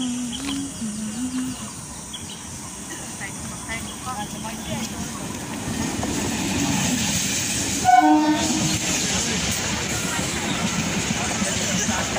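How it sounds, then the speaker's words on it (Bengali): Train arriving at a crowded Indian railway station, a loud horn blast cutting through steady rumbling wheels and a busy murmur of many voices on the platform. "তো ট্রেন এক্ষুনি চলে আসবে আর তারপরে স্টেশনটা একটু ফাঁকা হয়ে যাবে"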